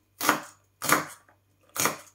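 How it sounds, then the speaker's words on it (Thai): Three sharp knife chops on a cutting board, slicing green chili peppers in a rural outdoor kitchen, evenly spaced about a second apart, close and crisp, with no talking. "ก็หั่นพริกรอนะคะ"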